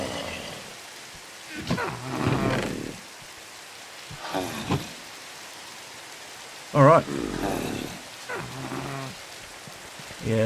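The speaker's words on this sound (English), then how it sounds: "we'll sleep to get rid of the rain" Steady rain falls in the Minecraft Skyblock world as a continuous hiss throughout, with speech and a few brief louder bursts over it.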